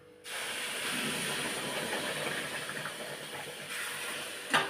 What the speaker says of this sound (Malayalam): ഇനി നമ്മൾ അതിനകത്തോട്ട് തിളപ്പിച്ച വെള്ളം ഒഴിക്കുക